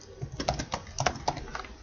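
Rapid clicking keystrokes on a computer keyboard as a username and password are entered, close and crisp in irregular bursts of taps with short pauses between them.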